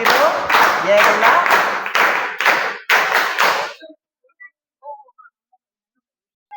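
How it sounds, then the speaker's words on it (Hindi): An audience claps and cheers in a burst of loud applause after a correct answer in a Hindi quiz game, fading out abruptly after about four seconds, followed by a few faint scattered sounds. "एकदम सही जवाब, तालियां"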